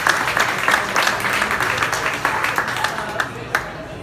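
Audience applause in a room honoring someone who shaved his head for juvenile cancer awareness at a county freeholder campaign event, steady dense clapping held at an even level for several seconds with a few sharper claps standing out.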